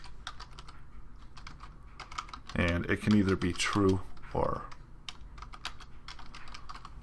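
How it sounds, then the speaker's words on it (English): Rapid clicking of computer keys runs throughout, close and steady, with a brief stretch of speech in the middle. "So I'm just typing here on an angle"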